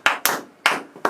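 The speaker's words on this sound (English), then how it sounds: "It's clapping, not slapping." Four sharp, loud hand claps, close and unevenly spaced, each with a quick decay and silence between, with no voices over them.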